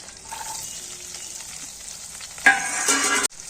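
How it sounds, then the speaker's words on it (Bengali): Onions fry in a pan after prawns, a soft quiet sizzle that flares into a louder burst of hissing and stirring near the end before cutting off. "এবারে পেঁয়াজগুলো ভেজে নিচ্ছি।"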